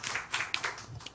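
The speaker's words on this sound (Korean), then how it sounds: "하나님께 영광의 박수 올려드리겠습니다." Church congregation clapping briefly during a Korean worship service, a short burst of uneven, fairly soft claps in quick succession.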